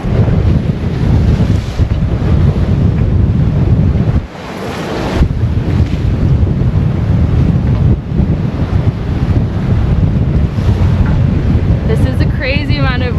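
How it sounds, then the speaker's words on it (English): Strong wind roars steadily across the microphone on a sailboat sailing close hauled under storm jib and triple-reefed main in big weather near the Torres Strait, with waves surging around the hull, loud and continuous with a brief lull midway. "Crazy amount of wind."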